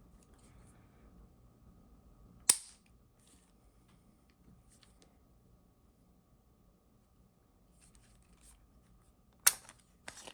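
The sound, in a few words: magazine ejecting from Ruger MkIV 22/45 Lite pistol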